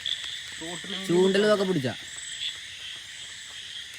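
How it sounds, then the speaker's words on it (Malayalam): Frogs croak at night beside a stream during rainy-season night fishing, a steady chorus running throughout with insects mixed in, under a voice talking over the first half. "ഫുള്ള് തവളൻ്റെ ഒച്ച കേട്ടോ"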